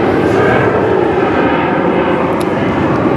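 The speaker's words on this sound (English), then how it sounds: "That was a British Airways Airbus A320-200 that's just taken off already" A British Airways Airbus A320-200 takes off at London Heathrow, its engines giving a loud, continuous roar that stays steady throughout.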